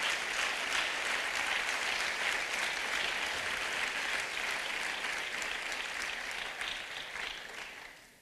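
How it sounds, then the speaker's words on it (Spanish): A church congregation claps hands loudly together in praise, a dense continuous patter that holds steady and then fades out at the end. "Dale esa ofrenda de palmas fuerte al Señor."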